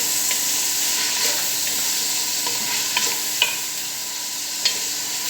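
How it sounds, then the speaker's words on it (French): Mafé peanut sauce with onion stirred in a pot, a steady soft sizzling hiss with a few light scrapes and taps of the spoon, close and even, no talking. "Après, on va tourner notre sauce bien."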